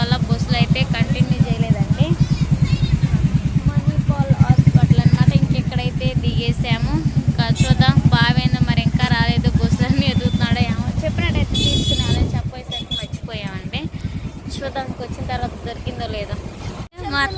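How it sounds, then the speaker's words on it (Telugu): Steady roar of passing traffic with buses and lorries rumbling close by, a continuous drone under a person talking throughout. "రోడ్ అయితే మాత్రం బాగా బస్సులు అన్నీ తిరుగుతా ఉంది"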